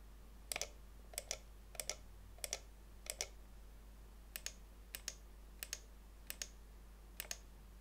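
Button clicks from an older Microsoft Comfort Mouse 6000, sharp crisp taps arriving in quick pairs, about ten clicks spaced across several seconds in a quiet room.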